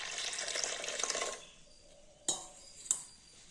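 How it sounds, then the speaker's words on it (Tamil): Water pours steadily into a vessel over soaking lentils for ragi idli batter, a close hiss and splash lasting over a second, followed by two sharp clinks of the pot. "இப்போ நம்ம பருப்பு மூழ்கிற அளவு தண்ணி ஊற்றிக்கலாங்க."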